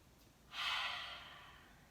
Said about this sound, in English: Breathe in and out. Breathe in and out.